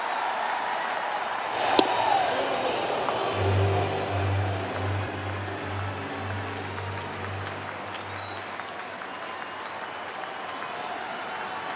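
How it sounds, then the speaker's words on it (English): A baseball stadium crowd in St. Louis roars and applauds at a Blue Jays–Cardinals game, a dense, sustained swell of cheering that stays loud throughout, with a sharp crack near the start and a low horn-like tone sounding for several seconds. "Listen to the crowd in St."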